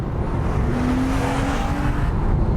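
A Ginetta G60 sports car, weighing about 1,100 kilograms, accelerates hard with a steady, loud engine roar and a rising tone that holds for a couple of seconds, with no one talking.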